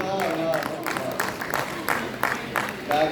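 Scattered audience applause at a Hindi poetry recital (kavi sammelan) fills the hall in uneven bursts of claps, with a voice briefly audible in the background.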